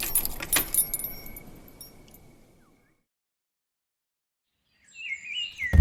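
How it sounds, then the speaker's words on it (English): Brass keys jangle and clink loudly at the start while a door is locked, the metallic rattling tapering off into silence, then a brief chirpy sound and a thud near the end. "Someone who had just finished locking up the Kaaba with his brass keys."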